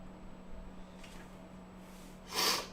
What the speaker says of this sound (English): Again, forgive my sniffles.